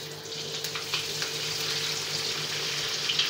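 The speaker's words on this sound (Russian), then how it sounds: "Выкладываю на горячую сковороду жиром вниз" A piece of lamb loin sizzles fat-side down in a hot pan, giving a steady close frying hiss with small crackles and pops throughout and no voices.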